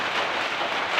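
Heavy rain pours down steadily on a surface, a dense, continuous hiss close by with no voices.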